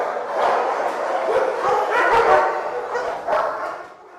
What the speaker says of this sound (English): It gets pretty loud in there because all the dogs get pretty excited when you see people walking in there.